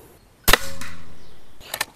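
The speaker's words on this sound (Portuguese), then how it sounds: "Terceiro disparo." A single sharp shot from a P35X Evolution air rifle launching a slug toward a 51-metre target, with a short ringing tail, then a pair of faint clicks about a second later.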